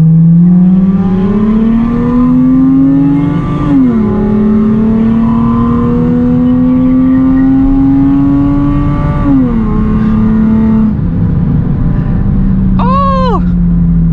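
A 300-whp Nissan 350Z and a 2JZ-powered Lexus IS300 accelerate hard in a street race, engines droning loud and close with rising pitch, dipping at each gear shift, and a short whine near the end.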